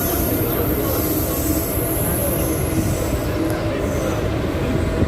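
A Jan Shatabdi Express runs at speed, its loud steady rumble and rattling wagons filling the space, with faint wheel squeal rising above the roar.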